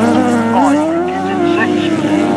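Sidecar outfits with 1000cc engines race on a grasstrack, their loud, continuous engine drone rising and falling in pitch as they run down a bank, with a commentator talking over the noise throughout.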